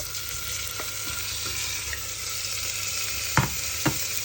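Tomatoes tumble into browned onions frying for lentil soup, giving a steady close sizzle with a few sharp clatters of a spoon or spatula against the pan.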